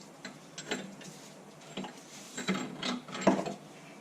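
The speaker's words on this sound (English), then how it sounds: "We're just going to pull our long bolts out through the top." Long bolts drawn up through the top of a 9-inch rear end during installation in an 82-92 Camaro/Firebird F-body, giving scattered metallic clicks and ratchet-like scrapes at moderate level, close by, with no talking.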